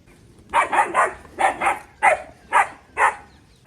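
A dog barks seven times in quick, loud bursts close by, the barks coming in a short irregular rhythm with near silence between them.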